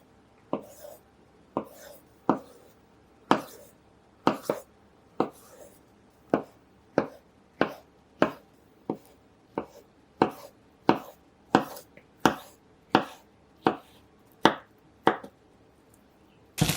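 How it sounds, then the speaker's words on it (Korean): A knife cuts an avocado into small pieces on a board, giving about twenty crisp close chops in a steady, unhurried rhythm with no talking. "아보카도는 작은 크기로 잘라주세요."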